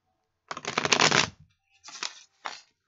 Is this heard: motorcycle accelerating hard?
no